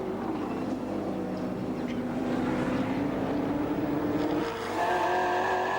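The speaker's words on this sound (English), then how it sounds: "On board with John McIntyre, just a hint of oversteer from the Amcor Falcon in that previous shot off the sweeper." An Amcor Falcon V8 race car on track, a steady engine drone rising in pitch through a sweeper, heard at moderate distance with crowd and track ambience.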